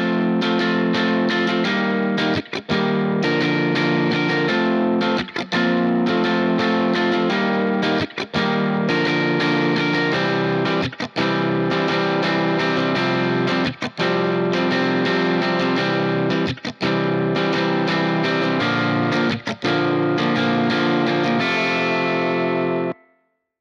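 An electric guitar played through Logic X's Amp Designer virtual amp sounds as continuous distorted, effects-laden chords, with brief gaps between strummed phrases, for over twenty seconds.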